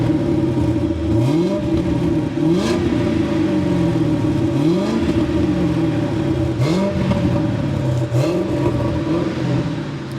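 An MG ZT-T 260 estate fitted with a Mustang V8 accelerates hard. The loud, deep engine note climbs repeatedly as it works through the gears, with an exhaust burble between the rising pulls and no voices.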